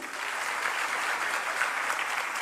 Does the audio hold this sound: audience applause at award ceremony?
yes